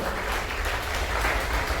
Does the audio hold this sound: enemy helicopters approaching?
no